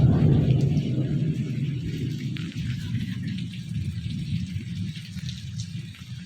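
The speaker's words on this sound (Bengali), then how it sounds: "ভালো বৃষ্টি হচ্ছে" Heavy rain pours down steadily on a Friday morning, a dense, loud hiss and patter with low rumbling underneath, continuous throughout with no voices.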